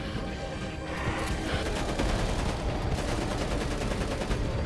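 Gunfire and grenade blasts in Crackdown 2 on Xbox 360, a sustained dense barrage of shots with booming bursts layered throughout, loud and continuous.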